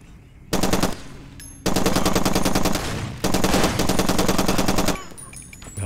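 Loud bursts of automatic gunfire in the video game Far Cry 2, three long rapid-fire volleys separated by short pauses, close and dominant with no talking.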